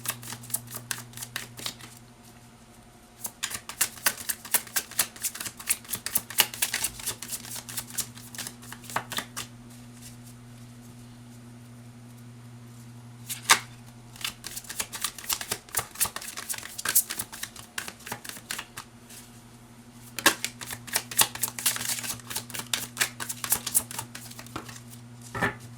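Tarot cards are shuffled over and over, producing crisp riffling and flicking bursts in repeated spells with short pauses between them, close and clear over a steady low background hum.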